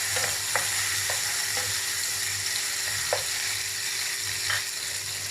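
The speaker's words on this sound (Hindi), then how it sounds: "सबसे पहले प्याज ऐड कर रही हूँ, टमाटोस ऐड कर रही हूँ इसी ऑयल के अंदर। थोड़ा सा फ्राई करूँगी इसको।" Onions and tomatoes frying in oil give a steady, dense sizzle throughout, close up, with a few light clicks of a spoon stirring against the pan and no voices.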